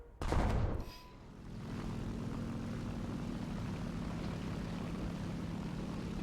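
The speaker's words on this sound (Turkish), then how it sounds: "Neyse uçağımızı alalım. Binlik bombamız var." A propeller warplane carrying thousand-pound bombs in War Thunder drones steadily after a brief loud burst at the start, the engine hum continuing evenly to the end.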